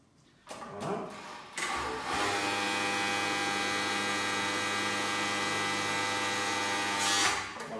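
An industrial sewing machine with an automatic thread cutter starts with a few short mechanical bursts, then runs in a steady loud hum with a dense whine that ends in a sharp cutting burst.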